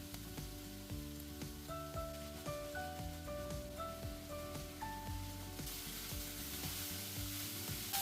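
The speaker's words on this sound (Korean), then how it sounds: "당근, 양파 볶다가 숨이 죽으면 새송이버섯, 팽이버섯, 어묵을 넣고 마저 볶아줄게요." Carrots, onions, king oyster and enoki mushrooms and fish cake stir-fry in oil in a pan, giving a steady, close sizzle with occasional stirring scrapes and soft background music throughout.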